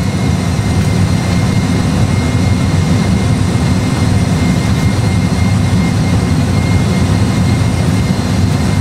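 Airbus A320 jet engines at climb thrust, a loud, steady, broadband roar with a heavy low rumble that holds constant throughout, heard from inside the aircraft with no talking.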